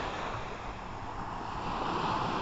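Waves washing onto the sandy beach of the Vistula Spit on the Baltic Sea, a steady broadband surf roar mixed with wind noise, swelling slightly toward the end, with no voices.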